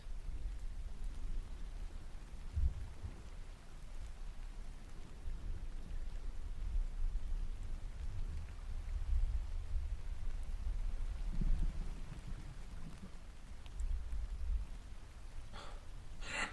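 Steady rain played as background ambience on a live stream, a soft even hiss with faint low rumbles throughout, heard alone without any voices.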